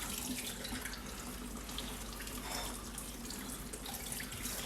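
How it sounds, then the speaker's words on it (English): Hot water runs steadily from a tap over a knife in a continuous soft stream, splashing gently and evenly, quiet and close, with no talking. "So just run a knife under some hot water."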